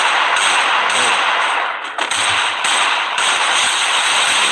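Rapid gunfire from a first-person shooter game, a dense, loud burst of automatic shots running continuously with a brief dip near the middle, no voice over it.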